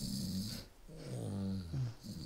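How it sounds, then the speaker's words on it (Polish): A sleeping character snores in the medieval role-playing game Kingdom Come: Deliverance, with two long, low, rasping snores set against a quiet room tone. "Dźwięk chrapania jak wstawał."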